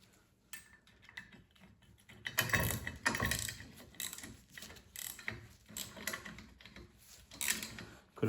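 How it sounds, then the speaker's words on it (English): A 19 mm shorty ratcheting wrench turns a bolt on a snowplow headlight riser kit, producing close, rapid clicking in irregular bursts with brief pauses between strokes. "I like to use ratcheting wrenches."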